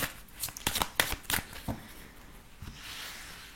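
A deck of tarot cards shuffled by hand for a reading, several quick riffling bursts close up, followed by a softer, quieter stretch.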